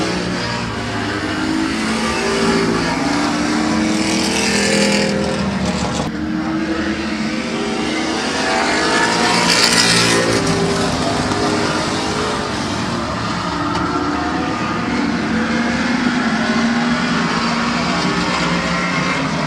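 Race cars roaring around the track at Midvale Speedway, a continuous loud engine drone with rising and falling passes, under ongoing announcer commentary.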